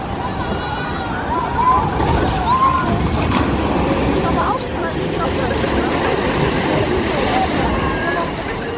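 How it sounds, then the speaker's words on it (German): Boat of a water ride at Hansa-Park amusement park sloshing through water amid steady rushing noise and crowd babble, continuous and loud throughout. "Okay, wir fahren jetzt Wasserbahn."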